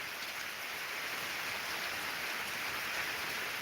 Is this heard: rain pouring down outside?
yes